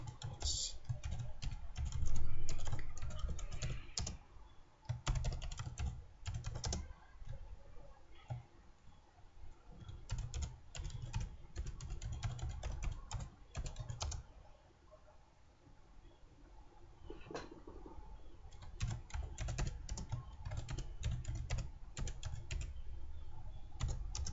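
Typing on a computer keyboard, close and quiet: rapid bursts of key clicks with short pauses run throughout, with no voices.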